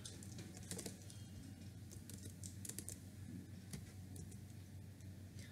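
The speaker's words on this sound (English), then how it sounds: "I just select and press delete key on keyboard" Computer keyboard keys pressed on a Windows 10 PC, several brief clicks scattered over a steady low hum, fairly quiet and close.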